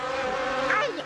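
Cartoon mosquito buzzing in an animated jungle scene, a close, thin whining drone lasting about a second, rising and wavering in pitch near the end.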